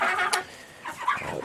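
Fast-growing Cornish Rock broiler chickens give a brief run of soft, close clucks and chirps in a farm pen, with no talk over them.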